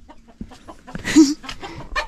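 Chickens and a hen clucking on a Philippine farm during a harvest, a loud bright cackle standing out amid short scattered clucks and bird calls.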